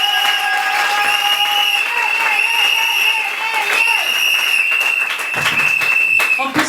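A church congregation at a French-language worship service applauds and acclaims the Lord, a continuous loud wash of clapping and cheering with sustained high voices and ringing tones running throughout.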